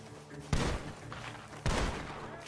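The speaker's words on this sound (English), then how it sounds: "The gunshots are coming from that barn." Two loud gunshots from a barn in the video game Red Dead Redemption 2 ring out about a second apart, each with a sharp crack and a lingering echoing tail.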